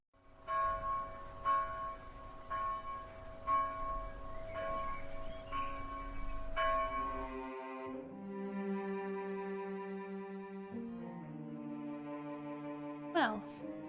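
A church bell in the video game The House in Fata Morgana tolls noon, about seven resonant, evenly spaced strikes that ring and decay, then give way to a sustained, mournful musical tone.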